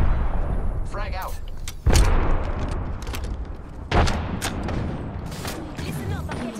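Shooter video game combat: sharp gunshots and two heavy explosive booms around two and four seconds, with dense rapid fire and chatter-like game noise running throughout at close range.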